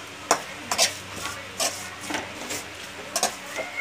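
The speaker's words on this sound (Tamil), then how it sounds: "நல்லா நம்ம வணக்கி எடுத்துக்க போகிறோம்" Coriander leaves being sautéed in a pan for kothamalli thokku give quiet, intermittent scraping and stirring strokes at an uneven rhythm.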